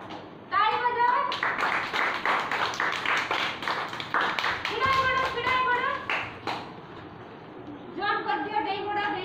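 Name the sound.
children clapping hands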